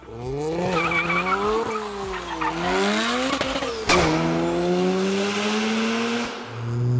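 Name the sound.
650 HP Mazda RX-7 driving hard, tires squealing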